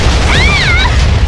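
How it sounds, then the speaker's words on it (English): A Minecraft explosion, one dense, loud booming burst filling the short moment with rumble, with a faint whistling tone sweeping over it and no one speaking. "No, Mikey, it's gonna explode"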